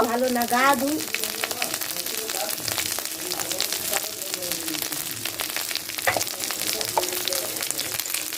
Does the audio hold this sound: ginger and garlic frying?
yes